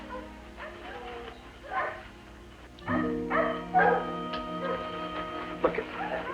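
A dog in an animated Disney cartoon gives a few short barks and yips, mixed in under talking voices and a steady background hum.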